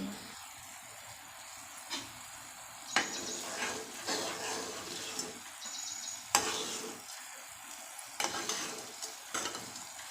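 Tamarind paste for pulihora bubbles and sizzles in oil, a steady close frying hiss broken by repeated scraping stirs of a spoon against the pan at irregular intervals.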